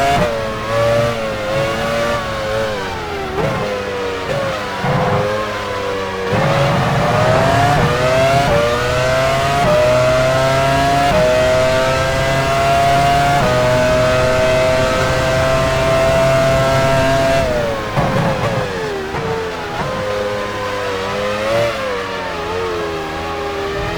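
A 2002 Formula 1 car in the F1 Challenge 99-02 racing game at Sepang, Malaysia, its engine screaming close and loud, climbing through gears in long rising sweeps with brief lifts and shifts, continuous throughout.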